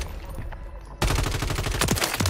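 Gunfire in Warzone, with sniper shots among the battle noise, breaks out suddenly as a fast, loud string of cracking shots that follows a quieter stretch of background combat noise.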